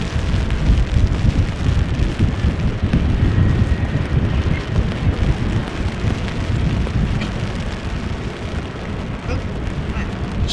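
Steady rain and wind hitting the ground at Amsterdam Schiphol Airport in wet, blustery weather, a dense continuous wash of loud patter with a low rumble underneath, no break for the whole stretch.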